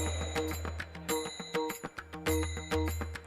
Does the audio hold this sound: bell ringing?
yes